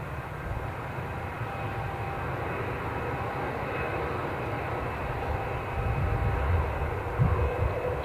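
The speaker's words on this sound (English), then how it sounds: "Sound of British Airways pushing back behind me, or to the side of me" A British Airways airliner pushes back at Newcastle airport, its engines giving a steady, distant roar that holds constant and swells slightly near the end.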